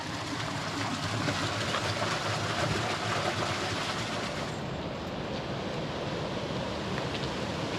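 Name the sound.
underground stream flowing out into a river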